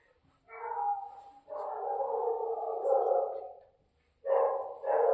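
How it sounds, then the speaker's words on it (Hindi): A dog barks in a few drawn-out, separate bursts at moderate volume, with short quiet gaps between them. "अब देखिए ये जो कुत्ता भौंक रहा है"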